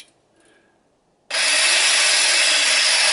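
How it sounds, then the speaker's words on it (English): After a moment of near silence, a jigsaw bursts into a loud, continuous buzzing rasp as it cuts into wood from a drilled starter hole, holding steady at full speed. "Make sure that the base of the jigsaw is setting firmly on the piece."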